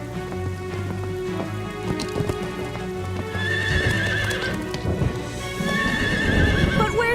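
A cartoon horse named Chili neighs loudly over drumming hooves during a rainstorm, the whinnies rising and falling over the steady patter of rain.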